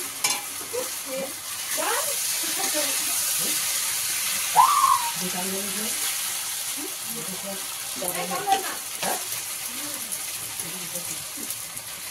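Masala with Kashmiri red chili powder and a splash of water frying in a pan for a fish curry, a steady close sizzle with scraping stirs and the pour of water, under someone speaking.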